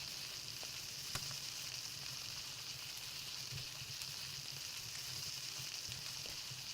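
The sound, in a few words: berries frying in a pan, from video game Palworld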